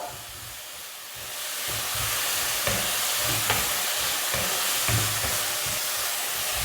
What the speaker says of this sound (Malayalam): നെയ്യും ചേർത്ത് നന്നായിട്ട് ഒന്ന് ഇളക്കി യോജിപ്പിച്ചെടുക്കാം